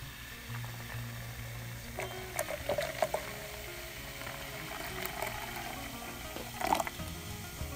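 Lemon-flavoured sparkling water bubbling and hissing as it heats to a boil, with a low steady rumble, faint crackles and a few louder pops throughout.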